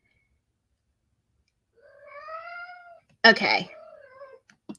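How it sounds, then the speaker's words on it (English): A cat meows nearby, one drawn-out wavering call followed by a shorter, harsher meow, with a person briefly speaking between the calls. "I am so sorry for the cat."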